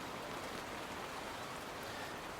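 A heavy rain downpour falls in woods beneath a tree canopy, producing a dense, even hiss that stays constant and fairly loud throughout, with no voices.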